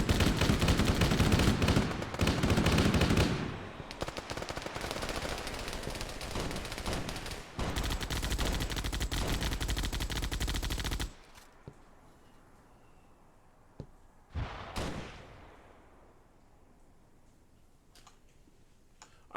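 Gunfire in a Halo-themed Arma video game, rapid sustained automatic bursts for about eleven seconds, then quieter scattered distant shots and a few sharp single cracks over a low background.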